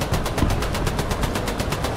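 Rapid bursts of aircraft cannon and machine-gun fire in the War Thunder video game, a steady rattling stream of shots close up for about two seconds with no voices.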